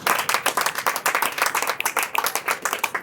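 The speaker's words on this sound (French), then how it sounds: "Je crois que vous devez m'applaudir pour ça." Audience at a recruitment open day in Togo claps in a lively, uneven rhythm, individual hand claps standing out close by for about three seconds.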